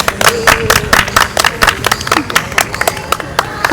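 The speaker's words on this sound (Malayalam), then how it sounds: "നല്ലൊരു ക്ലാപ്പ്" An audience at an insurance programme event gives a short burst of scattered, fairly close hand claps for the day's winner, irregular and uneven, heard on their own.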